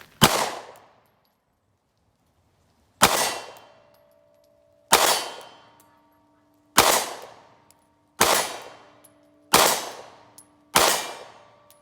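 Shots from a SIG P365 pistol at full-size IPSC targets ring out as seven sharp, loud cracks with metallic ringing decay, spaced roughly one to two seconds apart after an initial gap, with no talk.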